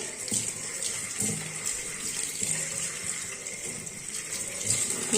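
Tap water runs steadily over a cloth being rinsed, a close, continuous hiss and splash with faint soft knocks and handling sounds throughout.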